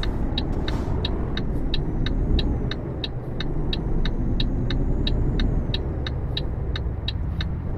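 A heavy truck in Euro Truck Simulator 2 pulls away from a traffic light, its loud continuous engine drone steady throughout, with evenly spaced clicking ticks running over the top.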